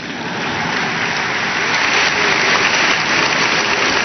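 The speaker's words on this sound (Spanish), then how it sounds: "bueno, aplaudan nomás, no se preocupen" Audience applause during Rafael Correa's national address speech: a dense, sustained wash of many hands clapping that swells slightly and holds steady at full strength, with no voices on top.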